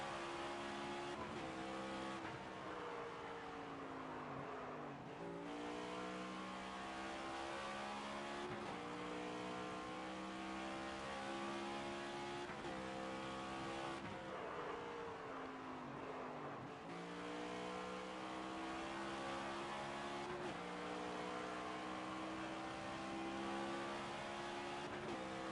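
Race car engine in the NASCAR 25 video game, loud and continuous, its pitch climbing repeatedly through gear shifts as it revs, with no talk over it.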